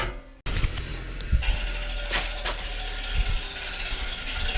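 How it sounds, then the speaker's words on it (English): A grinder works the sharp edges of a metal heat shield, giving a steady, harsh mechanical whir with rattling catches and a few louder scrapes after a sudden start. "Hopefully that'll grind the sharp edges off."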